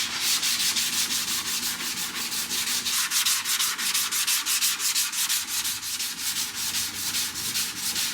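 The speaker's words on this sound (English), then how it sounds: "I'm gonna go ahead and sand on this side" Hand sanding car body filler on a Datsun Sunny body kit using a 220 grit block: steady, rhythmic back-and-forth rasping strokes, close and continuous, with no voices.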